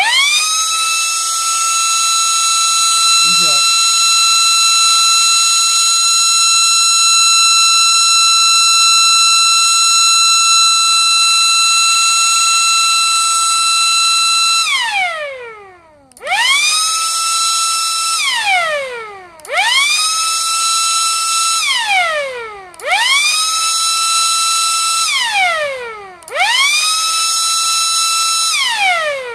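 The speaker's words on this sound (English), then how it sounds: "short alert and short attack on my MS-190 tornado siren test" Privately owned MS-190 tornado siren sounding a short alert and short attack: a loud, near, sustained wailing tone held for about fifteen seconds, then four rapid rising-and-falling cycles.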